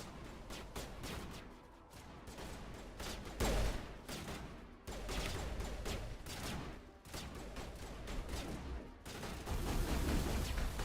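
Gunfire from the video game Mass Effect, a near-continuous barrage of loud, overlapping shots and bursts across the whole stretch, with no talk over it.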